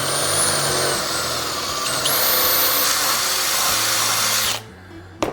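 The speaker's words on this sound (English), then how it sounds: "we want to drill our cap really slow and easy" A power drill whines steadily and loudly as it drills slowly into a cap, its pitch climbing partway through, then cuts out near the end.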